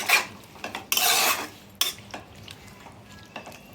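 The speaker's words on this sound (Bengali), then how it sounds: "এটা দিয়ে একটু নাড়াচাড়া করে নিচ্ছি" Metal spoon stirring curry in a pan, with sharp scraping clatters and bursts of scraping between softer knocks and a faint sizzle underneath.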